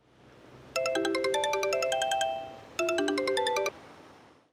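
A mobile phone ringtone plays a bright, repeating electronic melody in two bursts, the first about two seconds long and the second shorter after a brief pause, loud and clear over quiet room tone with no talking.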